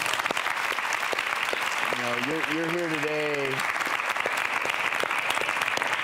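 A studio audience on a medical talk show applauds in a continuous, dense wash of clapping throughout, while someone briefly speaks over it in the middle.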